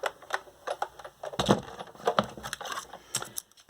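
Cardstock is cranked through a die-cutting machine, giving a busy run of close, crunchy clicks and rasping bursts for a few seconds, with no voices over it.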